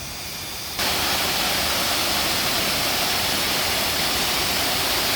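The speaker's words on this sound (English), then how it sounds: "Look at that, the waterfall." Mae Sa waterfall in Chiang Mai pours as a dense, loud wash of white-noise-like rushing water that swells in sharply after a softer opening and holds steady, with no voices.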